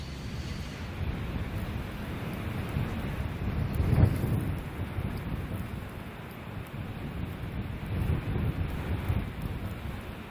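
A thunderstorm with rain and wind sweeps over the Valaam archipelago, a steady dense roar of downpour and gusts. A low rumble of thunder swells briefly in the middle, and the wash of rain holds throughout with no voices.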